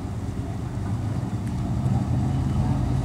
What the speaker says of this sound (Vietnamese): Trời ơi, cái động cơ nghe rất là đã luôn các bạn.